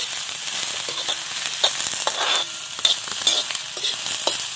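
Onions frying in an outdoor pan until browned, a close, steady sizzle broken by scraping and stirring strokes throughout. No one speaks.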